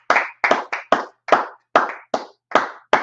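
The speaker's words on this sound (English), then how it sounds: "Clap it up. Clap it up," Hands clap in a loose rhythm of about nine sharp, fairly loud bursts with short gaps between them, from a group chanting along at a gathering, with no talk underneath.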